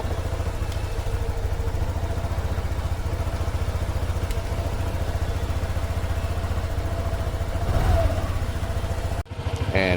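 A Honda Click 150i keyless scooter engine idling steadily and close by, a low even chug throughout, with a brief surge near the end before a short dropout.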